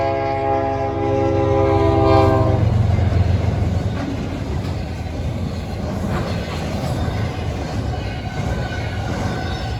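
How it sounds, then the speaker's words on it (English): A freight train horn sounds loudly for a couple of seconds, then a short CSX freight train led by a GP40-2 locomotive rumbles and clatters past steadily, filling the rest of the clip. "Very short train."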